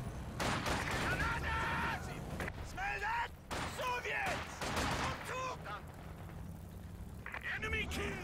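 Machine gun fire on a battlefield in Company of Heroes 2, short rattling bursts and distant booms mixed with other combat noise, heard under continuous commentary from a man.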